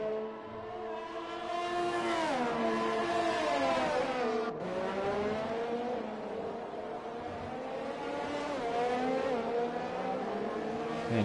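Several F1 race cars in F1 2020 scream along the Dutch GP track, high-revving engine notes rising and falling through gear changes, loud and continuous for the whole stretch with no talk.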